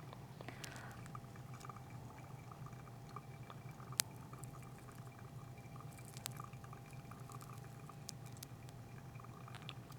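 Water poured over ground coffee during a pour-over brew, a faint, steady trickle and soft dripping close by, low and continuous under a quiet room hum.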